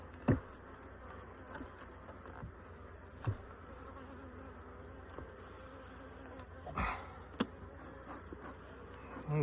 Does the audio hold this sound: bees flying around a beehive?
yes